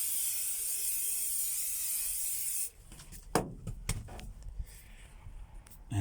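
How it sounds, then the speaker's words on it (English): A steady loud hiss of spray cleaner being applied to the seats of a Renault 16 TS interior runs for several seconds, then stops and gives way to scattered rubbing and knocking sounds. "So what we were doing is using the spray,"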